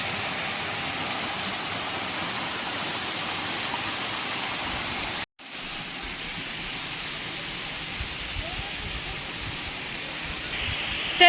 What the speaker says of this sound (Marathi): हा असा सुंदर असा झरा.